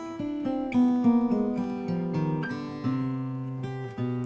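A steel-string acoustic guitar plays a quick roll-style run from a tune, bright plucked notes following in an even, rippling sequence, close and clear with no voice.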